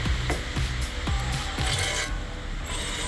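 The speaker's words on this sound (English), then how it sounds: "use wire brush like this. Clean the meeting surfaces where the pad goes" Wire brush scrubbing the pad contact surfaces on a Dodge Durango/Jeep Grand Cherokee front brake caliper, in quick rasping back-and-forth strokes with a regular rhythm, close up and fairly loud.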